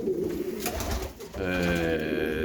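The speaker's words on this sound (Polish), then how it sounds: "Tych gołąbków jeszcze troszeczkę jest, bo powracało." Pigeons coo in a loft, soft throaty calls rolling over one another at close range with a steady background hum, the cooing thickening in the second half.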